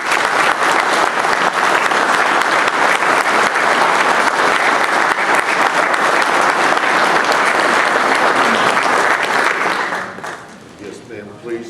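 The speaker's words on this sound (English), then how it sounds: "If everybody would join me in a round of applause." An audience at a county council proclamation ceremony breaks into sustained, dense applause that holds steady for about ten seconds before fading, with a voice emerging at the end.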